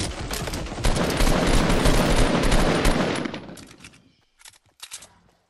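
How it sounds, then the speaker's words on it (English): Fortnite gunfire erupts in a dense, loud, sustained automatic burst lasting about three seconds, then fades into a few sharp separate clanging shots and metallic dings against near silence. "Oh, he shot"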